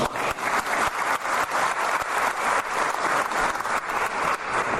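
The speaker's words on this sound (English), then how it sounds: "Please a round of applause." An audience at an African fashion reception in Paris gives a warm round of applause for an ambassador, dense, steady clapping from a sizeable indoor crowd that fills the whole moment.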